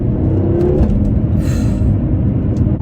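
A BMW F13 M6 engine accelerates hard in second gear as a loud, steady, close low rumble heard from inside the car.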